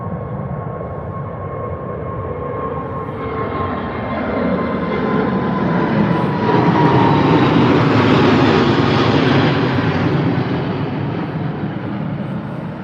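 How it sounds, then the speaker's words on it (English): An Airbus A380 airliner takes off from Heathrow, a deep, steady jet-engine roar that builds gradually from the distance and swells to a broad rumble before fading slightly. "it is on the runway, it is looking like it's taking off"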